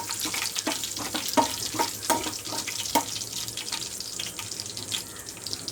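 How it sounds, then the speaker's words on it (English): Whole black pepper and a cinnamon stick fry in hot oil for kadai paneer, a steady close sizzle punctuated by several sharp clinks and scrapes of stirring, with no talking. "Now I'm going to add black pepper, cinnamon stick, fry it well."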